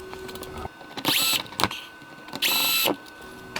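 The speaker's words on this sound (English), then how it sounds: "3 Torx head T20 screws. I'm going to undo those." Tool undoing Torx T20 screws inside a Camaro wheel well, two short loud whirring bursts with faint clicks and knocks between them, close by.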